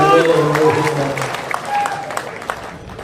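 An audience at a literary conference claps in a patter of scattered hand claps that builds under a voice and continues as his speech fades.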